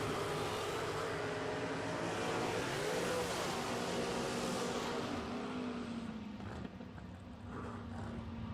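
A drag racing car, a motor-on-a-stick dragster at the Keystone 660 Top Bulb Nationals, holds a loud, steady engine roar close by for the whole stretch, easing slightly near the end.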